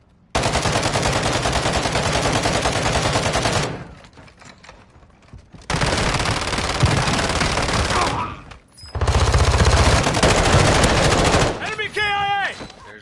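Heavy automatic gunfire in a firefight, sustained loud bursts around three seconds each separated by short gaps, with a voice briefly heard among the shots.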